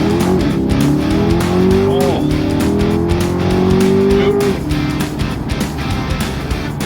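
Corvette fitted with a Soler throttle controller accelerating hard, the engine note climbing loudly in a long sustained pull, then dropping off, with a tire squeal and a brief exclamation from the driver.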